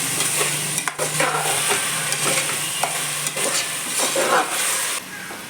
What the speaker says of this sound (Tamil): தக்காளி போட்டு நல்லா வதக்கி விட்டுக்கலாம்